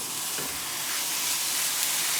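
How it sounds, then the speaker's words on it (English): Meat sizzling in a hot frying pan, a steady, loud, hissing crackle that holds evenly throughout with no talk over it. "That's what you want when you put your meat in the pan, a nice sizzle."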